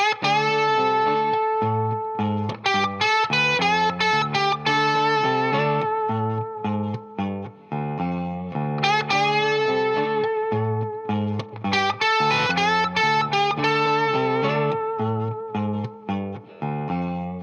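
A distorted electric guitar plays a lead lick over a steady backing track, phrases repeating with sustained bent notes, loud and continuous.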